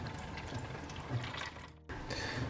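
Water running steadily over a bed of lentils in a small model river, a continuous trickling and splashing with a brief dip near the end, no voices.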